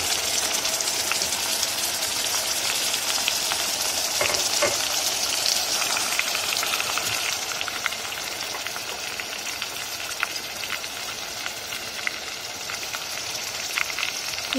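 Tomato sauce poured over sautéed onions hisses and sizzles steadily in a pan for a red lentil soup, a continuous bright frying crackle with no talking.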